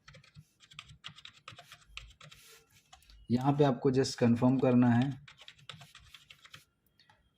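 Password being typed on a computer keyboard while creating a Gmail account: steady light clicking of keys runs through most of the clip, with a person speaking over it partway through.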